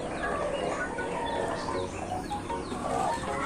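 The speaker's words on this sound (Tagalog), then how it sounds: "ito yung pabo natin" A turkey calls among poultry on a farm with laying hens and breeders, giving clucking, gobbling notes over a busy background of other birds chirping and fowl noises.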